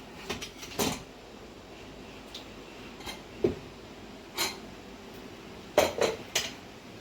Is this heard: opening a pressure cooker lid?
yes